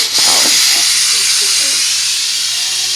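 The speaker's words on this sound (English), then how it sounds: "it starts to release the pressure and all the spray comes out" A loud, steady hiss of steam venting from a pressure cooker valve while cooking carne guisada, continuous throughout with faint clinks in the background.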